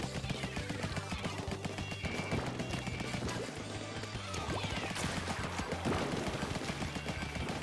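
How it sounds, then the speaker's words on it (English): Weapon shooting in the Splatoon video game, a dense, continuous stream of rapid splattering shots and impacts under busy game effects and music, with a voice speaking over it. "Let's go in here and just start shooting."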